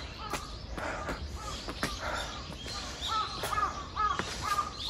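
Crows caw repeatedly near a maple tree on a hillside path in Onomichi, Hiroshima, in autumn, a series of fairly close, harsh calls over faint outdoor ambience and a few footsteps.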